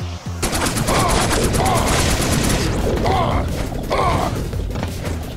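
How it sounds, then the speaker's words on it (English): A fusion rifle in the video game Choke Point fires rapid bursts of mechanical, rattling shots with metallic creaks, loud and continuous and close up. "show you the fusion rifle now."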